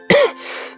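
A single sharp, close cough made as a Kapalbhati breathing check on whether the belly pulls in, with a brief vocal tail and a faint breath at the end.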